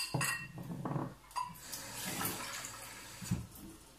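Clean water pours into a cooking pot holding a mushroom sauce with gombo and djoumblé, with splashing and clinking of the pot at close range and no talk.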